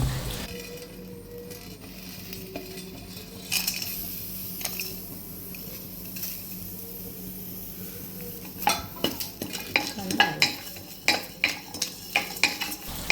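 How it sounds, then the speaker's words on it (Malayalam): Cumin and black pepper rattle and scrape in a dry pan as they're stirred and roasted, soft at first, then sharper, quicker clinks and scrapes toward the end. "കുരുമുളക്, ഇതൊക്കെ ഇട്ട് നമുക്കൊന്ന് വറുത്തെടുക്കണം"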